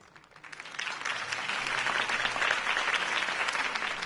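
Crowd applause in the video game Batman: The Telltale Series: a crowd bursts into applause, swelling quickly from quiet to steady, dense clapping that continues loudly throughout.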